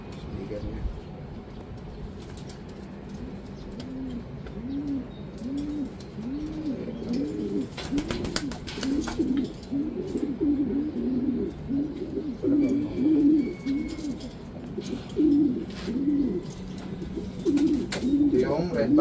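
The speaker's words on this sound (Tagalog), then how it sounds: "Ito pangatlong ibon natin." Racing pigeons coo repeatedly at a derby loft in Bauang, La Union, a steady rhythmic run of low throaty calls close by, with people talking in the background.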